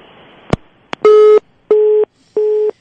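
An outgoing telephone call rings unanswered, a couple of clicks followed by three evenly spaced, loud, buzzing ring tones with short silences between them.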